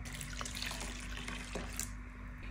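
Water poured into a pot to cover cauliflower in a home kitchen, a steady rushing splashy flow, close and continuous.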